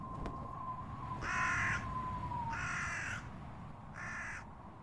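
A crow-like bird in the animated Warhammer 40K film Helsreach gives three harsh, evenly spaced caws over a low ambient rumble, with a thin steady tone fading out early.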